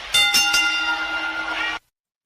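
A bell is struck three times in quick succession, each hit bright and metallic, then rings on in a sustained tone for over a second before cutting off abruptly. Loud and close, with no voices.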